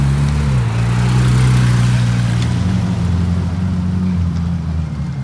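A Ferrari 458 sports car engine runs loud and steady at close range, its low droning tone shifting pitch once early on before holding even, with no voices over it.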